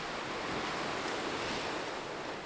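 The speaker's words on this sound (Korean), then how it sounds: "파도는 쉼없이 몰아친다" Ocean waves crash continuously on the open sea off the Korean coast, a loud, steady broadband roar of surf with wind noise and no voices.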